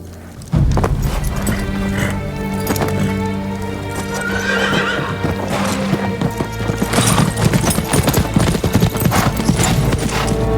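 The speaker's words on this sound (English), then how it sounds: "They're samurai horses." Samurai horses in the game Ghost of Tsushima whinny loudly while their hooves clip-clop, heard over a swelling musical score.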